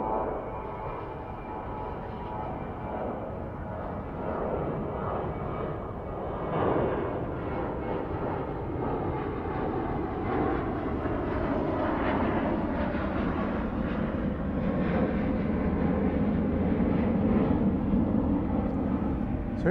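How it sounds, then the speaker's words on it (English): Planes taking off at DFW Airport make a sustained, distant engine roar that slowly builds and swells over about twenty seconds, steady and broadband, with no voices. "More fun to watch the planes taking off"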